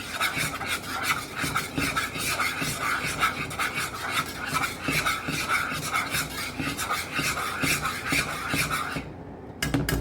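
Hands squishing and mixing chicken stuffing of mushrooms, sun-dried tomatoes and cheddar cheese with egg, a steady wet rasping and rubbing that continues for about nine seconds before stopping abruptly.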